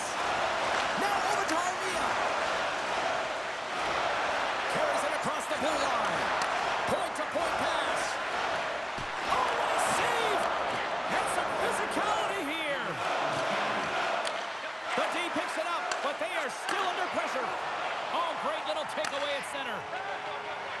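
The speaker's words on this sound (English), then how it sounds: "the home crowd is loving it" Simulated arena crowd noise in the NHL 25 hockey video game, a steady loud roar and cheer sustained throughout, with a commentator's voice running over it during a Tampa Bay–Montreal game.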